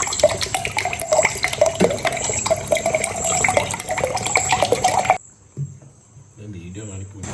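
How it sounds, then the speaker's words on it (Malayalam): Water pours steadily at a roadside snack stall for about five seconds, a loud continuous rush that stops abruptly and leaves quieter background noise, with people talking nearby. "വെള്ളം ഒഴിക്കാം"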